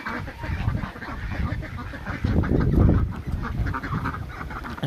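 A flock of geese honking and cackling nearby, a continuous overlapping chorus that swells louder midway.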